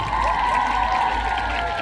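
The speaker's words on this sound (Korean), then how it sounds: "다시 한 번 박수 부탁드리겠습니다." Audience applause at a Daehangno musical sing-along event, a brief dense wash of clapping and crowd noise under a sustained musical tone, moderately loud.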